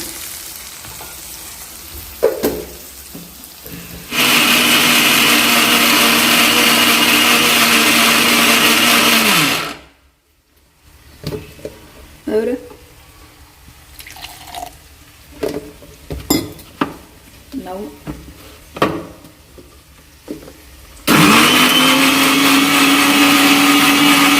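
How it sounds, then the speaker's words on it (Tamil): A mixer grinder whirs loudly grinding masala paste with tomato for chicken curry, stops, then there is clinking and handling before the grinder roars on again. "இதை இப்போ நல்லா அரைச்சி எடுத்துக்க போகிறோம்"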